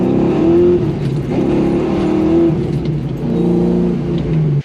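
A 30-year-old Ford Mustang Foxbody drives along with a loud, close engine drone that rises and falls as it revs, with steady low rumble throughout.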